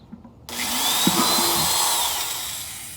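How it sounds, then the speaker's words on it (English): After a moment of quiet, a power drill kicks on and runs steadily, grinding close up as it bores holes into a plastic bucket. "I'm going to get my drill, and I'm going to start drilling holes about 1 inch apart."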